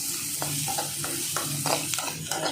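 Onion pieces fry in a pan, a close steady sizzle punctuated by regular scraping strokes of a spoon stirring them.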